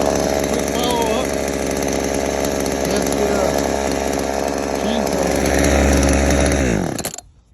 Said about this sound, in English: Chainsaw had flooded out. Back to running fine.